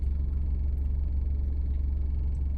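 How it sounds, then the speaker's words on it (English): A steady, deep engine rumble with a low vibrating drone fills the interior, constant and close, without a break. "Sounds like my car's about to vibrate into nothingness."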